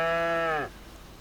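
A single bovine moo from a cow in a cattle shed in Farming Simulator 25, a strong clear tonal call lasting about half a second that bends downward and cuts off, followed by quiet background.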